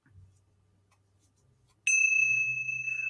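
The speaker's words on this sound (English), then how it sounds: "Wait, I got the bells. Got to have the bells," A small hand bell rings with a bright, sustained metallic tone that lingers after a quiet stretch with a low hum beneath.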